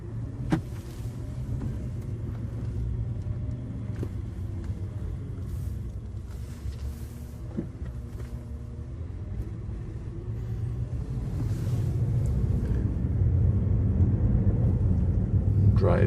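A 2015 Bentley Continental Flying Spur's low engine rumble and road noise from inside the cabin, steady and building slightly louder toward the end as it accelerates.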